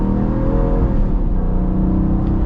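A 2025 Dodge Durango R/T V8 rumbles and revs with a deep, throaty, steady growl, close and loud throughout with slight swells in pitch, no voices over it.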